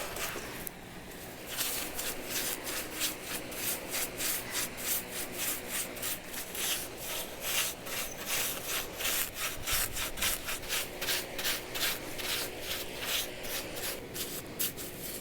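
A brush working Special Walnut wood stain into the nooks of a wooden container, with fast, rhythmic bristle strokes scrubbing back and forth against the wood, steady and close throughout, with no talking.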